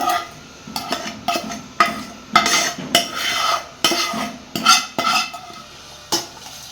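A spoon scrapes and clinks as fried tempering is mixed into cooled cooked rice. Rhythmic stirring strokes and scrapes repeat close up, with a faint sizzle underneath and no voices.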